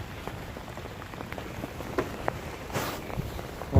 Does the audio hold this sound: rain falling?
yes